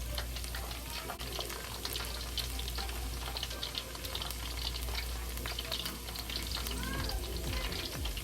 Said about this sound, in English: Then we turn it over to fry the outside.